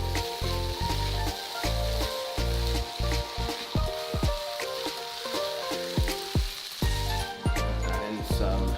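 Egg and rice stir-fried in a pan for pork fried rice: loud, continuous sizzling close by, punctuated by a regular pattern of spatula scrapes and knocks, with no voices.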